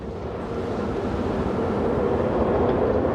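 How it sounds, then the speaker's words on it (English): A ride train rumbles past in the video game Planet Coaster 2, a steady dense roar of wheels and track noise held at close range with no voices. "Watch the train."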